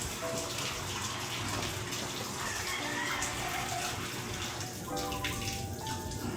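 Water runs from a tap in a steady, dense rush that holds at an even level throughout, close to the listener with no pauses.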